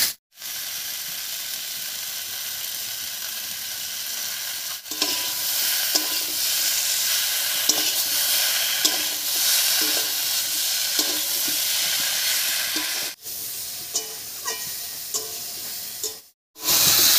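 Vegetables and tomato frying with dry red chili paste in a pan for a fish and cauliflower curry: a loud, continuous hiss of sizzling oil with rhythmic scraping stirs, broken by a few short cuts to silence.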